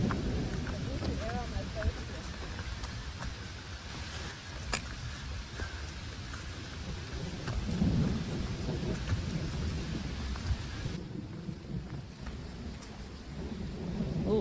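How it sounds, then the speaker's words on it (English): A thunderstorm with steady heavy rain and low rolling thunder rumbling throughout, loud and close, with occasional sharper cracks. "I hear the rain coming, and I think the thunder's calming down a little."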